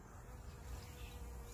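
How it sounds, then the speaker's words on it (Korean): Honeybees buzz steadily around opening white peony blossoms in a garden, a continuous close droning hum without any talking. "꿀벌들이 모여들기 시작합니다"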